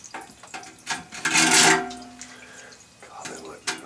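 Water from a flushed toilet rushes down a corroded copper drain stack in a swelling gush that peaks and fades, with clatter and a voice talking nearby.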